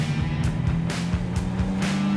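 A BMW M2, a 454bhp rear-wheel-drive manual coupe, with its engine droning steadily while driving, a continuous close rumble with slight pitch shifts and rushing road noise.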